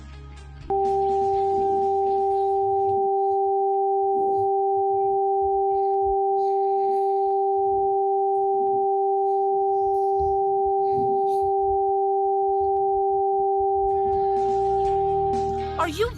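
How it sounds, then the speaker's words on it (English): Two steady pure tones for an ear hearing test, one high and one low, sounding together without a break for about fifteen seconds, with faint talk underneath. "Most right-handed people hear the high tone in their right ear and the low tone in their left ear."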